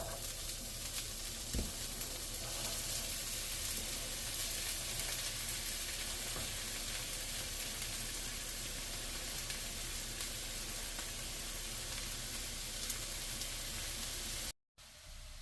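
Onions, peppers and celery hiss in a hot pan, a steady, even sizzle like dense static that runs without a break until a sudden short dropout near the end.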